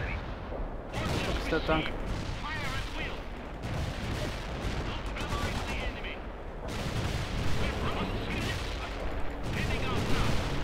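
Artillery and gunfire from a World in Conflict battle, booming and crackling continuously through the clip, with a voice talking over the combat throughout.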